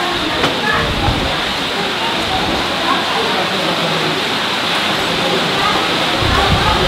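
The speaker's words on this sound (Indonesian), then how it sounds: "Minta maaf geng kalau bising sikit sebab waktu aku buat video ni hujan lebat" Heavy rain pours down in a dense, loud, unbroken hiss that fills the whole stretch, close and steady with no gaps.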